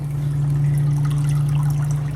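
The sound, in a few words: water pouring out of aquarium sump filter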